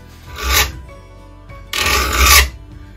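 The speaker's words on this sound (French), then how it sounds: "Il va falloir que je l'affûte et que je lui donne de la voie." A hand file rasps along the teeth of an old bow saw blade being restored and sharpened, giving two close, scraping strokes separated by a quieter pause, with no talk.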